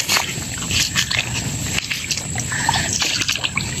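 Water trickles in a forest during a hunting trek, a soft continuous burble mixed with rustling, crunching footsteps and brief knocks.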